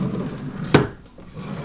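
One sharp wooden knock or thud of a nursery dresser drawer shutting, close by, in a quiet room with no voices.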